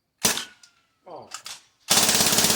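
A gun fires a rapid burst of about four rounds at close range, loud and sharp, after a few people speak briefly beforehand.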